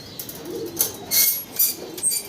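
A pair of Lavender Chuachandan pigeons, a male and a female, coo in a few soft, low repeated phrases close by, with brief chirpy bird sounds and light flutters in the background.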